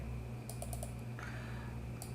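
A computer mouse clicks during Photoshop work: a few quick light clicks in a short cluster, then a single click, faint and close over a steady low hum.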